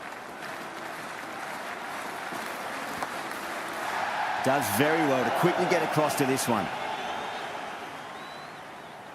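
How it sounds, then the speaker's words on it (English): A packed cricket stadium crowd in the video game Cricket 26 keeps up a steady roar beneath a commentator's voice, then swells into louder cheering and chanting midway before settling back. "It's evident and ever so audible that the crowd is at near bursting point at today's play."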